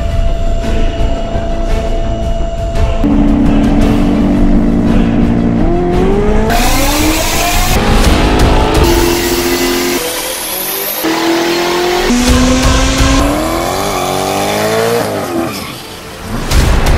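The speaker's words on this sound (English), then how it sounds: "Today we're tuning this 1993 Eagle Talon TSI." A 1993 Eagle Talon TSI with a 2.3-litre stroker engine and turbocharger running on a dyno, loud and close, revving up in repeated rising pulls with brief drops between, the engine note climbing steadily under load.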